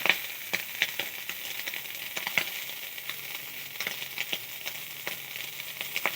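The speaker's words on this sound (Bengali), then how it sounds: "ভালো করে মাছটিকে ভেজে নেব।" Two eels (kuche fish) sizzle and crackle as they fry in a pan, a steady close hiss broken by frequent sharp pops, with no talk.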